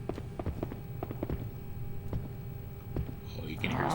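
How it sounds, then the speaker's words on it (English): Footsteps in the PS2 horror game Haunting Ground, a series of soft, evenly spaced thuds under a low ambient drone, with a brighter swell of noise at the end. "Oh, you can hear his footsteps."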